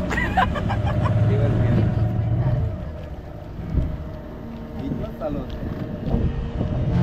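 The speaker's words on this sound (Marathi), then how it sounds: "आता आम्ही इंजिन लावलंय आणि आता फुल स्पीडने आता समुद्रात जातोय" A motorboat engine drones steadily at full speed heading out to sea, with wind and water rushing past, while people talk and laugh over the noise.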